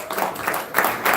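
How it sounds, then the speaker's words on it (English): A live audience breaks into applause for Brother Jahi, a brief burst of dense clapping that swells and dips across a second or so, with no speech over it. "Let's give Brother Jahi a round of applause."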